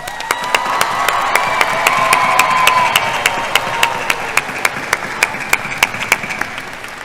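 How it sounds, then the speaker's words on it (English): A graduation ceremony audience applauds the class of 2022 in a big hall, a sustained wash of crowd clapping with some cheering, punctuated by sharp, regular, loud claps close to the microphone. "let's give them a round of applause."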